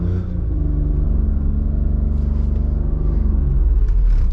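A 1.0-litre car engine strains reversing uphill at low revs with a deep, throbbing rumble that swells slightly toward the end, close by and loud, its clutch burning out.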